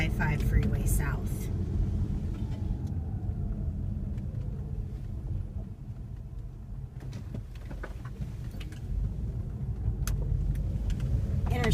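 A car cruises onto the I-5 freeway southbound near Cardiff by the Sea and Del Mar, giving a continuous road and engine rumble with wind noise, while a person talks quietly over it.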